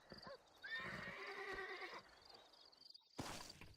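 A horse in the Red Dead Redemption video game gives a loud, drawn-out whinny with shuddering pitch, followed by snorts and a short burst of noise, heard clearly with no talk over it.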